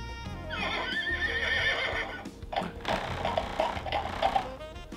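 Toy Story Signature Collection Bullseye horse toy plays a close, loud recorded whinny, followed by a second neigh over a clip-clopping gallop effect, continuing for several seconds.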